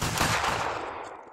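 Rifle volley in the Mount & Blade Warband video game during an Anglo-Zulu battle: one loud, dense crackling discharge of many muskets at once, fading over about a second.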